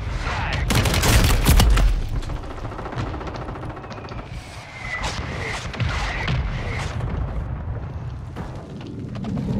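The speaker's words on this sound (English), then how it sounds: "Friendly mortar strike on the way." Friendly mortar strike in a Call of Duty match: a loud burst of booming, rapid gunfire-like blasts at the start, followed by continued rattling combat noise and scattered impacts throughout.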